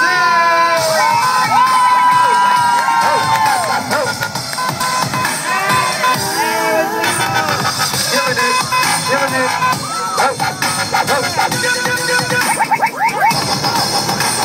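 A large crowd at a live performance at the 2013 Hmong J4 Sports Tournament in Minnesota cheers and shouts loudly and continuously, with whoops and screams piling up into a dense roar throughout.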